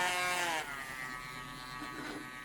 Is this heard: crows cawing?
no